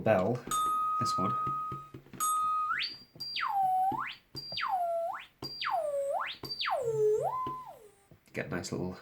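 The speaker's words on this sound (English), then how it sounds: "I like the little bell, this one." A circuit-bent sound effects machine plays an electronic bell, first a steady beep and then repeated swooping tones that dip and rise in pitch as a knob is twisted, with brief gaps between them.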